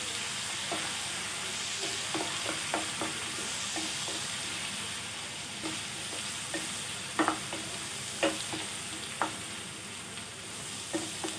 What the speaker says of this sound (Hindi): एक चम्मच अदरक लहसुन का पेस्ट डालेंगे।